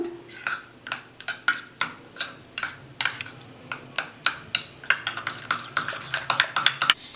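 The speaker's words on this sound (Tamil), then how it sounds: "தயிர் ஆட் பண்ணிவிட்டு எல்லாத்தையும் நல்லா மிக்ஸ் பண்ணிக்கணும்" A spoon clinks and scrapes rhythmically against a bowl while rice flour and curd are mixed into a face pack, the quick repeated taps speeding up toward the end, close by with no voices.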